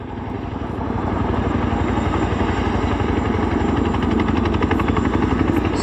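Steady, loud rotor thrum of a Boeing Chinook HC6 twin-rotor helicopter flying a display at an air show, a continuous heavy beating drone that builds slightly and holds with no speech.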